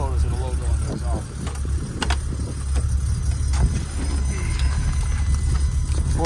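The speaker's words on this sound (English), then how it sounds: "I'll show you what the exhaust sounds like back here." A 1984 BMW 633CSi Super Sport with a 5-speed idles from behind at the exhaust, a steady low rumble with a few sharp clicks and knocks, while a person talks over it.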